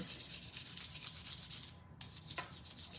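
Paint being rubbed onto a self-adhesive Dollar Tree tile pumpkin craft, a close, steady scratchy scrubbing in quick repeated strokes, with a brief pause near the middle before the rubbing resumes.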